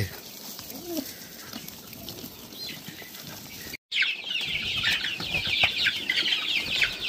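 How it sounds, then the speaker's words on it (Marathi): Grown chicks and hens cluck and chirp in a backyard coop, with soft calls early on and a louder, busier flurry of clucking and wing noise later, under occasional talk. "बघा ही कोंबड्यांची पिल्ली आपण केवढी आणलेली होती, आता कशी झालीत बघा मस्त पैकी"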